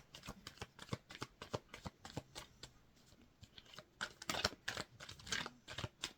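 Tarot cards being shuffled by hand: a quick run of crisp riffles and soft slaps, close and fairly quiet, with bursts of papery flutter and no talking.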